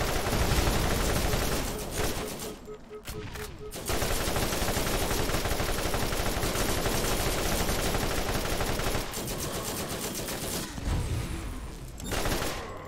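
Rapid, sustained turret gunfire from the video game Borderlands (Zombie Island of Dr Ned), loud and dense across most of the stretch, with brief lulls and a few short breaks between bursts.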